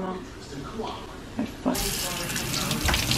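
Beer pours for a michelada in a sudden loud rushing gush that starts partway through. Quieter handling sounds and a brief voice come before it.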